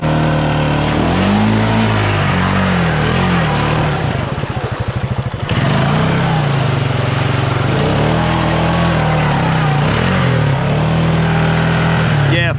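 A Honda Rancher 420 ATV engine runs steadily at idle and low revs, its low harmonic drone rising and falling slightly, with a brief deeper rumble in the middle and people talking over it throughout.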